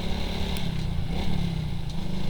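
A motorcycle engine hums steadily and close throughout a ride, with constant wind and road noise blended in and no speech.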